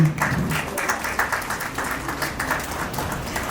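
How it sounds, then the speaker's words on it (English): Crowd applause at a retirement celebration, a dense patter of many hands clapping at moderate distance, fairly steady throughout. "A big clapping for him."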